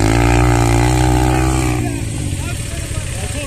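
A motorcycle engine runs close and loud with a steady low drone that drops slightly in pitch partway through and keeps idling, with no clear speech over it.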